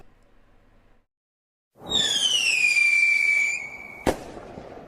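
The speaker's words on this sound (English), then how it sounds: "Yes, the 1K fireworks." A firework rocket launches with a long descending whistle lasting about two seconds, then ends in one sharp bang, loud and close after a brief silence.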